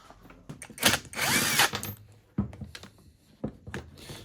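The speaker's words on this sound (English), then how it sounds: "Could I get them out with an impact driver?" Impact driver backing screws out of a Karcher K2 pressure washer motor, loud whirring bursts with one long sustained run, close up, then sharp clicks and taps of parts being handled.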